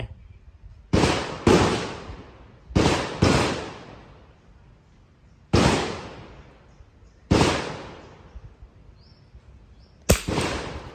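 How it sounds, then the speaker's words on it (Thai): Rifle shots from a CZ 457 Jaguar fired at a 50-meter range: six loud, sharp reports with quick decays, some in close pairs, spaced across the clip. "เอามาอีกที เอาแก้ตัวอีกสองนัด เมื่อกี้ยิงสูงไปลูกยิงสูงไป"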